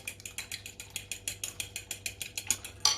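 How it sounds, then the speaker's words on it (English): A fork whisks eggs for pasta dough in a bowl, giving a quick, even run of light clicking taps at close range, with no voices. "give your eggs a little whisk with your fork, just to combine them all"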